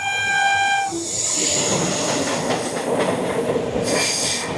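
The North East Express on the Kolkata–Guwahati line sounds a loud, sustained horn blast, then roars past close by with grinding, squealing wheels and a steady rush of rolling cars.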